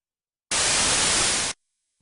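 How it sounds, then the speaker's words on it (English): A one-second burst of broadband noise played as a test sound in an auditory experiment, starting and stopping abruptly, loud and steady with silence on either side. "This is a sound of broadband noise that we played."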